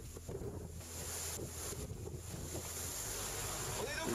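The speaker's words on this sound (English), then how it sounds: "We're sailing downwind" A racing sailboat running fast downwind on the open ocean during the Vendée Globe, a steady roar of wind and rushing water with spray and hull noise throughout.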